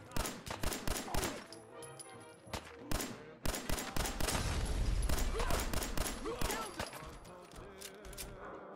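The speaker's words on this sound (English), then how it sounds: "You're shooting at me!" Irregular gunfire crackles in Fallout 4, with quick rattling bursts and single shots across a busy firefight, fairly quiet overall and with a thicker rumble of shooting in the middle.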